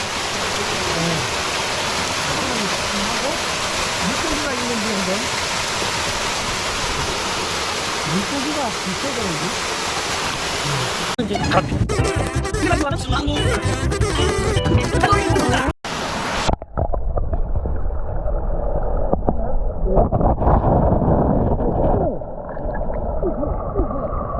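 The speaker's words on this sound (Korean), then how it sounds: "아, 여기가 선열폭포랍니다." Seonyeol Falls on Cheonggyesan near Seoul rushes in a broad, steady roar of falling water close by. Partway through, the sound shifts abruptly as if the camera moves, and the water continues, heavy and constant, with a voice speaking at times.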